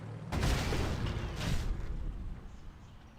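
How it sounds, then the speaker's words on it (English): Airship cannons fire in a Civilization 5 game, a booming burst that rumbles heavily for about a second and a half, then trails off into a lingering low roar. "I like the cannon sounds the airships make"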